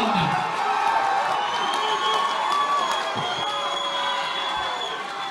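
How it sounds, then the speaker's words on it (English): A large crowd cheers and shouts continuously at an MMA event in the Smoky Mountain Convention Center, Pigeon Forge, a dense roar with scattered whoops that stays loud throughout. "You can hear the crowd."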